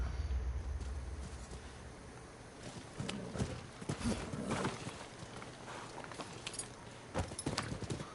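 Horse hooves pounding in the video game Rise of the Ronin, a steady clip-clop of a mount moving at speed, close and fairly loud over a low rumbling game background.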